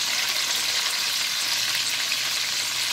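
Garlic and tomatoes frying in a pan for tomato pachadi give a loud, steady, close sizzle that holds without a break.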